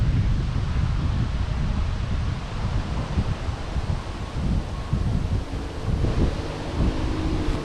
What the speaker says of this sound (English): The wind is getting to me.